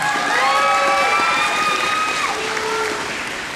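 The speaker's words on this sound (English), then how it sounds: "Big round of applause." An audience applauding and cheering at an elementary school musical, dense clapping with high excited shouts and whoops from children, loud and continuous, easing slightly toward the end.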